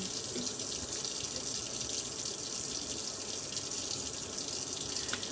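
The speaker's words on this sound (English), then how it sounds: "we're going to put a cup, 1 1/3 cup of warm water into our bowl" A steady, continuous rush of warm water pouring into a bowl, even and unbroken throughout, fairly close with no voices.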